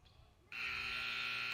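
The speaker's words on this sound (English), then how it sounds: "No good as the buzzer sounds" A scoreboard buzzer at a boys' varsity high school basketball game, Randolph Blue Devils against Abington Green Wave, sounds the end of the third quarter, one long loud continuous blast that cuts in after a moment of quiet gym ambience.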